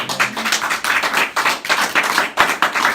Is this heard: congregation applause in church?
yes